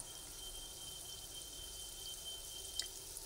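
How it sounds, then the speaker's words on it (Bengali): Palm fritters (taler bora) frying in oil, a faint, steady hiss of bubbling with one small sharp pop near the end, no voices. "এইভাবে সবকটা দিয়ে আমরা বড়াগুলোকে ভেজে নিচ্ছি।"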